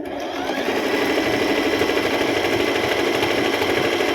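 Singer M3505 portable tabletop sewing machine stitching steadily, a close, continuous rapid mechanical whir and needle clatter running at an even pace throughout.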